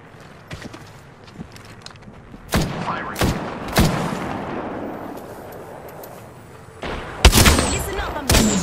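Gunfire rings out in the Apex Legends video game: several sharp separate shots spaced a second or so apart, then a louder close burst near the end, over low game ambience.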